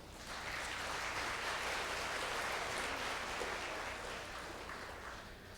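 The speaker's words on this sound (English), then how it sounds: "please give them a well-deserved applause" Sustained audience applause fills a conference hall after session speakers are thanked at an international development conference in Seoul, a steady broadband patter of many hands clapping at moderate distance, fading slightly toward the end.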